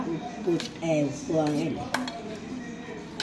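Mango pickle mixture being stirred and sautéed in a pan, with a few utensil clinks and scrapes close by while someone talks over much of it.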